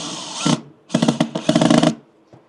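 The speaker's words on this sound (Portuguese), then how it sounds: "então eu vou parafusar um aqui e outro eu vou colocar aqui" A power driver sets screws into wood during a woodworking setup for planing boards. A brief whir comes first, then two longer buzzing runs close together, loud and near, ending with a faint knock.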